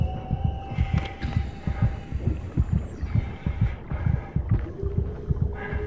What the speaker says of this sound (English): heart beating doesn't make it better